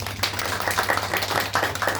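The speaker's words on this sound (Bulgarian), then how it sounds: "Аплодисменти за Марина," An audience at a book presentation in a small indoor room claps steadily, with many hands producing a dense, even run of applause.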